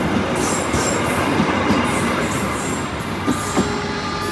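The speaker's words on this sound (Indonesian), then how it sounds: "Oh ini mah kereta Supas Surabaya Pasuruan rangkaian darurat." A Supas Surabaya-Pasuruan commuter train running as an emergency trainset passes close by, a loud, steady rumble of wheels on rails with occasional brief squeals and clicks, no talking.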